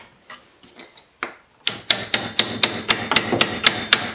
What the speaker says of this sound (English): I'll probably have to put this chisel in there to spread it out